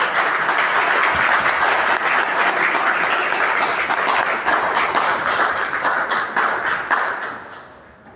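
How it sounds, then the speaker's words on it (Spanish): Audience applause welcoming a speaker to the podium at a seminary lecture, a loud, dense wash of clapping that holds steady and then thins out and fades toward the end. "Lo recibimos con un fuerte aplauso."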